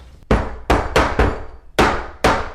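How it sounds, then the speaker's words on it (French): A metal cake pan filled with batter knocks sharply on a hard counter six times, loud and close, the bangs arriving in an uneven rhythm with short ringing decays. "je vais taper pour en effet égaliser la pâte et puis surtout pour chasser les éventuelles bulles d'air"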